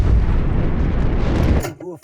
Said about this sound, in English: Launching a torpedo at a large dry cargo ship. A hit.